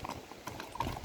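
A calm riding horse steps along, its hooves clip-clopping in a quick, regular rhythm at moderate distance, each footfall a distinct hollow knock over faint background.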